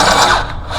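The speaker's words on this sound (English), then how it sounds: "This nice drill bit is just digging in." A drill bit grinds into metal on an evacuation system, a loud close whirring buzz lasting under a second with a slight dip in the middle, no talking.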